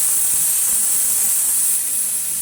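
A pressure cooker vents steam in a home kitchen while rice pilaf cooks, a loud, steady, close hiss that holds nearly constant throughout and eases slightly near the end.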